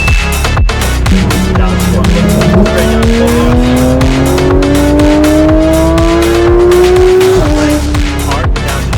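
A supercar accelerating hard on a race track, its engine roaring loud and near as the revs climb, with tires squealing in long rising tones through the corner.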